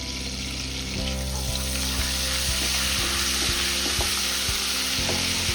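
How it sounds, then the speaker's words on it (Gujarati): Cumin seeds and asafoetida sizzle steadily in hot oil and butter for a paneer sabji, a loud continuous crackling fry with small pops and occasional stirring clicks throughout. "અને જીરું તતડે"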